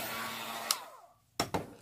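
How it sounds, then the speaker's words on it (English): A hair dryer blows a steady broadband whoosh over a drying watercolor painting, then cuts off; a few sharp knocks follow in the quiet. "I'll take my dryer to it."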